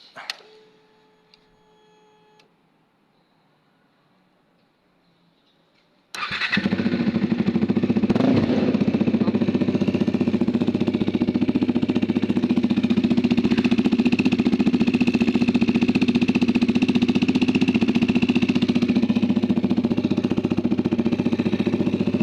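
Bajaj Dominar 400 motorcycle fitted with an aftermarket exhaust, engine starting after a quiet few seconds and then running loud and steady at a deep idle, close up, with no talking.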